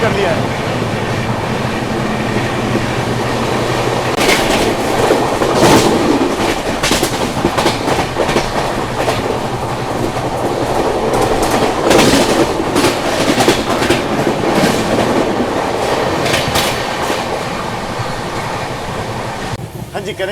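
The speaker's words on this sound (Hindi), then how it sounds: "बस आप लोग ट्रैक साउंड को एंजॉय कीजिए।" Riding aboard the Mumbai Duronto Express, a loud, steady rail roar carries repeated clickety-clack wheel beats over the track joints, swelling slightly at times.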